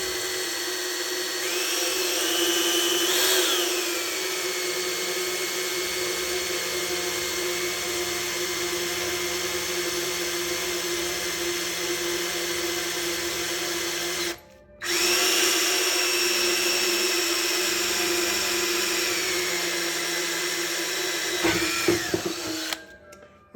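A power drill runs loudly and steadily into an amplifier chassis, its whine rising and dipping as the bit bites, with a brief stop midway before drilling resumes and finally winds down.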